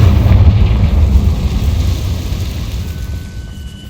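A Confringo spell explosion in Hogwarts Legacy, a loud, deep rumbling blast that fills the space and slowly fades over a few seconds.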